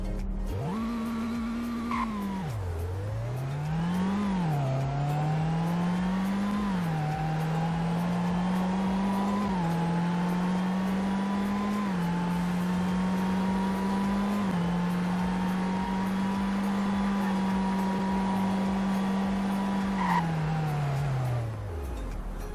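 A car engine in the Roblox Greenville video game drones as a synthetic tone, dipping and climbing through gear changes, then holding a steady pitch before sliding down as the car brakes to a stop; no talking.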